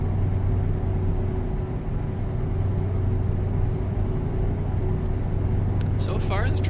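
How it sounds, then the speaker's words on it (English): Truck engine idling steadily in Euro Truck Simulator 2, a constant low droning rumble with a faint higher tone throughout, close and continuous, with no talking. "truck's actually running pretty good."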